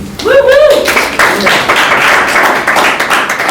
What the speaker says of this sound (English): let's give Joyce a big round of applause for always having female boxers on her bill.